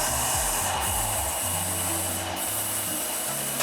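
A paint sprayer hisses steadily while priming a dining room with a vaulted ceiling, a loud continuous spray filling the space with a faint low hum beneath it and no talking.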